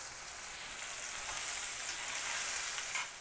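Onion and salt go into hot oil with cumin seeds for a catfish curry, a soft, close hiss of frying that swells slightly midway, with no talk.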